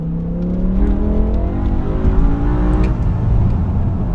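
A BMW M5's V10 engine revs hard and close, its harmonics climbing and falling steadily over the whole stretch with no talk.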